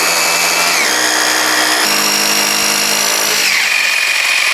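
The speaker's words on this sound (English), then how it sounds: "Place the drill bit on the marks, keep the drill nice and level, and let's drill these holes." A power drill runs continuously while boring holes into a wall to mount oak floating shelves, its steady high whine shifting pitch as the bit bites in, loud and close.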